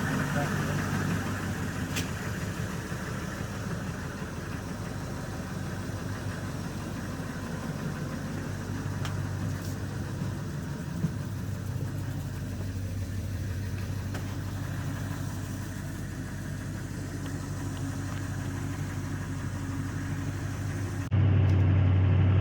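Engine of a 23-year-old MAC Tool truck running while driving home and smoking heavily, a low steady rumbling drone under road noise, continuous and moderately close, with faint talk.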